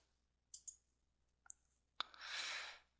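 A computer mouse gives a few soft, quiet clicks at a desk, the last followed by a brief breathy hiss in an otherwise silent room.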